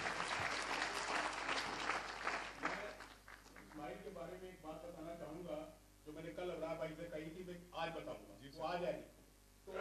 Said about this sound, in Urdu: نوجوان شاعر، تالیاں زوردار بجنی چاہیے۔